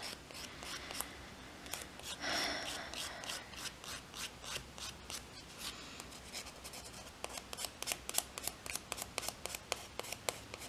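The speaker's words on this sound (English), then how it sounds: "I'm just filing like this on the fake tips, so I'm not filing onto my natural nail." Acrylic fake nail tips being filed with a nail file, a steady rasping scrape of short repeated strokes close up, quickening into sharp rhythmic passes toward the end, with no talking.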